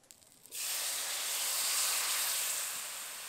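Tamarind water hits a hot frying pan for a crab curry, bursting into a loud, steady hiss of steam and spitting that starts abruptly after a quiet moment and holds for the rest of the clip.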